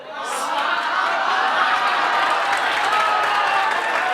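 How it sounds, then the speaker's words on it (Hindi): Audience applause in a lecture hall, a steady dense wash of many hands clapping throughout, with faint chuckles and murmuring mixed in. "मतलब आप तालियां क्यों बजा रहे?"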